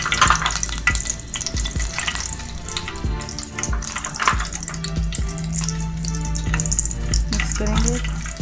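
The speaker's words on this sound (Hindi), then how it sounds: "ज़ीरा भुन गया हमारा।" Cumin seeds frying in oil in a home kitchen pan, a continuous sizzle with scattered clinks and scraping from stirring, close and fairly loud.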